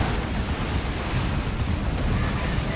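Rocket-run explosions in the real-time strategy game Dawn of War 2 come as dense, continuous rumbling blasts that stay loud and roughly steady for the whole stretch, with no speech.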